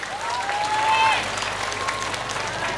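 Audience applause for the Citaman youth at a pesantren gathering, a brief, moderate wash of clapping from a crowd, fairly even for a few seconds.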